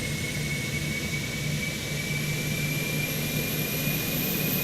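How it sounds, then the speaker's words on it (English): An aircraft auxiliary power unit runs steadily, heard from underneath the plane: a loud, unbroken turbine roar with a thin high whine above it, constant throughout. "that's the sound when you doing the walk around underneath the APU. It's like that, very, very noisy."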